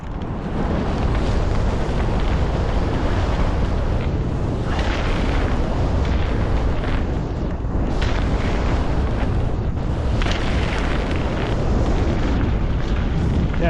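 Steady, roaring wind buffets the microphone while riding a mountain bike fitted with a 2025 RockShox Domain Gold RC fork, a loud continuous rush with no pauses throughout.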